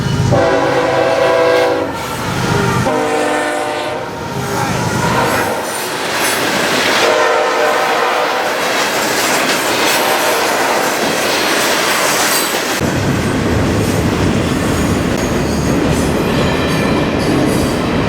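A loud freight train of rock cars rolls past close by, its horn blaring in long blasts over rumbling wheels, squealing and rhythmic clacking on the rails.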